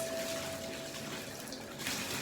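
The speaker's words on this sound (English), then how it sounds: "That's how I rinse the hair." Running water rinsing soapy weave hair bundles in a sink or tub, a steady continuous splashing flow that stays loud and even throughout with no talking.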